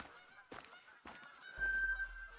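A goose in a hunting video game honks several times in short bursts, fairly close and clear, followed by a low rumbling background.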